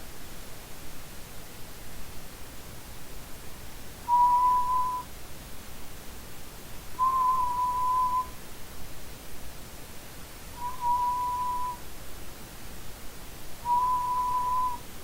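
A thin, steady lip-whistled tone sounds four times at even intervals, each lasting about a second, over a constant background hiss.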